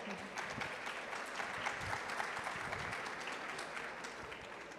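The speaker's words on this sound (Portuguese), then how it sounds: "Salva de palmas." An audience at a stage event on the Amazon gives a round of applause for a company director called onstage, a steady wash of many clapping hands heard faintly from a distance throughout.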